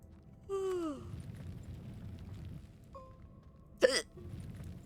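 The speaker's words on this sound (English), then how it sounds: "I had the hiccups." Two quiet, separate hiccups from a man about three seconds apart, each a short vocal jolt over a soft background hum.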